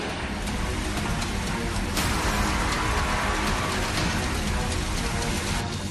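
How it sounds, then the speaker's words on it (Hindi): Heavy rain pours down in a loud, unbroken hiss that fills the scene for several seconds, with no voices over it. "शुरू हो गई तबाही की बारिश।"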